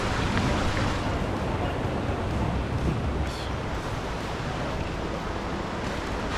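Waterfall at Dry Falls in the Smoky Mountains, water pouring over the rock edge in a steady, loud broadband roar that fills the whole stretch without breaks.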